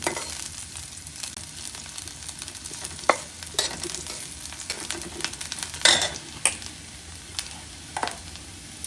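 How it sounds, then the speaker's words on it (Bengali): Onions softening in a pan keep up a continuous sizzle while a spoon stirs and scrapes, with sharp clicks against the pan and no voices. "পেঁয়াজটা একটু সিদ্ধ করে নেবো। লাল লাল লাল লাল অতটা করবো না, একটু সিদ্ধ হোক।"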